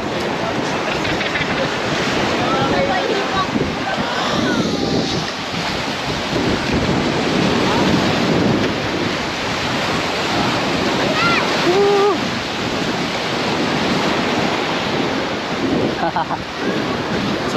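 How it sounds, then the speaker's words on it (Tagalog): Strong ocean waves roll in on a sandy Philippine beach near Kaybiang Tunnel, a loud continuous roar of surf buffeted by heavy wind noise on the microphone. "Lakas ang alon."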